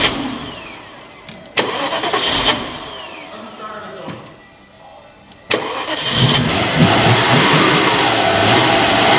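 A 1991 Audi V8 Quattro struggling to start, with two loud cranking-and-catch attempts that sputter, then the engine firing and revving unevenly at close range; a voice is heard briefly between attempts.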